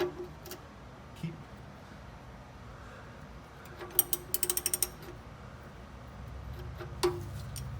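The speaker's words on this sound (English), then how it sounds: "A couple more turns with the socket and you should be able to do it by hand." Socket wrench working the oil drain plug loose on a 1967 Ford Mustang with a 289 V8: a brief quick run of ratcheting clicks near the middle, plus a few isolated ticks, over quiet garage background.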